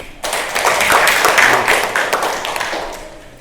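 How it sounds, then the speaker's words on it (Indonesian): A burst of applause from a class, brisk clapping that swells and then gradually thins out, with no talking over it. "Tepuk tangan."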